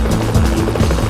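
London police helicopter, a steady loud rotor thump with a rhythmic chop, close overhead and without voices.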